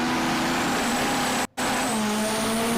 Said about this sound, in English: Bring them up on the starting line rev limiter.